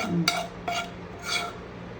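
A spoon stirs chicken-leg biryani in a metal pot in a home kitchen, giving three soft scraping, clinking strokes over a quiet background.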